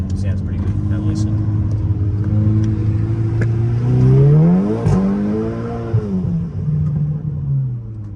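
A Volkswagen Scirocco engine idles with a deep, loud rumble, then revs up and swings back down in a couple of rising and falling sweeps before settling. The sound is close by, and a person talks over part of it.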